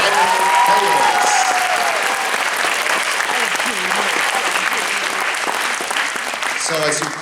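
An audience at a lunchtime community performance applauds the POWIIS Primary Players, a thick, sustained roar of clapping with cheering voices mixed in, then a speaker begins talking near the end.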